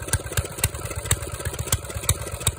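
Small engine idling unevenly just after a choked cold start, a steady close chugging pulse of low thumps about four per second with ticking clatter on top, heard alone.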